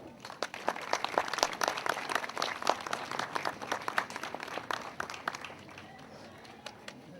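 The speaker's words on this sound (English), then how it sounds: "Let's have a huge round of applause for him." Audience claps for a graduate at a school one-act play contest program, a dense burst of hand claps from a moderate crowd that thins and fades toward the end.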